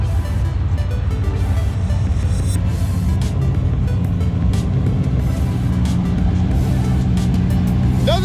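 A car fitted with a cheap rear-mount turbo kit, running 8 pounds of boost, drones loudly and steadily while being readied for the dyno, with a constant low engine rumble throughout.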